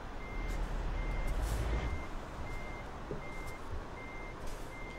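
Reversing beeps from a truck in Euro Truck Simulator 2, a steady series of evenly spaced electronic beeps over a low engine rumble, with a brief louder hiss of air near the start.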